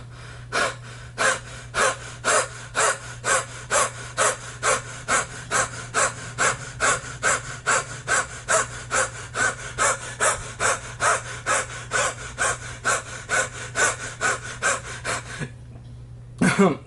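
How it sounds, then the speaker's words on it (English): A person breathing heavily and rhythmically, a loud, close series of about thirty quick, harsh in-and-out breaths at an even pace, ending with a short pause and a couple of final breaths, with no talking. "So I'm gonna just breathe heavily."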